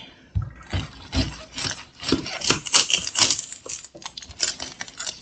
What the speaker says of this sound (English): let me cut off part of this onion